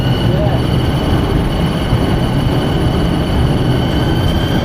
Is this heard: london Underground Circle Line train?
yes